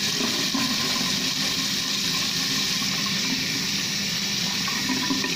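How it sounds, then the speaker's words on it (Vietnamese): Running water splashes steadily while face cleanser is rinsed from skin at a sink, a continuous close gushing flow with no talking. "các bạn nhớ rửa cho da mà các bạn thật sạch đi cái sữa mặt"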